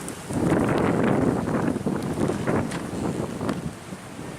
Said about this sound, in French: Avec le vent qui s'engouffre à l'intérieur, ça doit être terrible